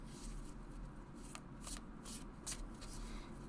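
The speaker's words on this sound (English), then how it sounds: "You can overhand shuffle." Tarot cards from a dark fantasy deck being overhand shuffled by hand, a steady soft riffling patter with a few sharper card slaps, close and quiet over a low background hum.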